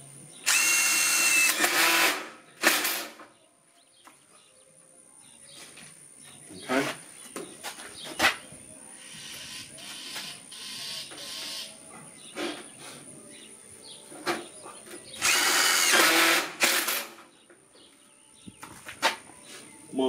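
A power drill drives screws into a metal carport roof being insulated, with two loud, sustained bursts of drilling near the start and again around the middle, separated by quieter handling clatter and faint birdsong.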